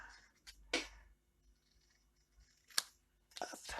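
Scissors snipping a small paper strip for a handmade flower card, a few sharp, close snips separated by quiet pauses.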